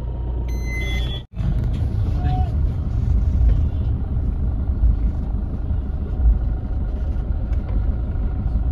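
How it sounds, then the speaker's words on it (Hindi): Heavy road traffic in Jaisalmer, a steady low rumble of many vehicle engines passing close by, continuous throughout, with a person talking over it. "बहुत ही ज्यादा ट्रैफिक"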